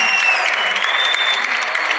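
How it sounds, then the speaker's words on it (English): Dutch fans in the stands at a judo team world championship final applauding their team, a dense, even burst of clapping close by with a voice speaking briefly over it. "the Dutch are just in front of me here, up in the stands, just applauding their team"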